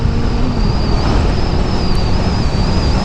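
Suzuki 600 Bandit motorcycle engine at full throttle, a steady droning roar with a high whine holding level, loud and continuous with no talk.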